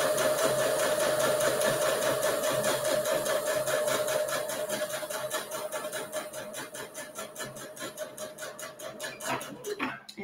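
A sewing machine backstitches the end of a seam on a fabric coffee cup cozy, a loud close whir that slows into a pulsing stitch rhythm before stopping.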